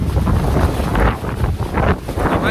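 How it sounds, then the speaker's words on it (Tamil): Strong cold wind on a mountain pilgrimage trail to Sivanolipatha in winter, a steady loud roaring buffet across the microphone with gusting surges and no voices. "காத்து வர."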